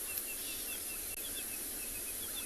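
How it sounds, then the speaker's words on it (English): A ring-necked dove calls at sunset on safari, its faint repeated phrases rising at a steady rhythm in the distance over a constant hiss of insects and frogs, with no voices. "ring-necked dove that's calling that"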